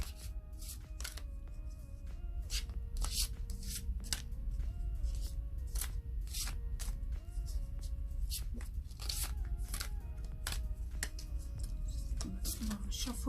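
Tarot cards are shuffled in rapid, crisp riffling bursts that repeat steadily. Background music plays underneath, and someone talks over it during a tarot reading.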